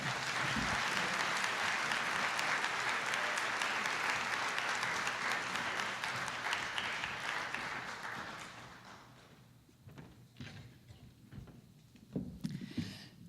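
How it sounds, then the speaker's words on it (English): Sustained applause from a conference audience in Atlanta, full and even for about eight seconds, then thinning into scattered claps, a few knocks and light room noise. "So if we could have one more round of applause"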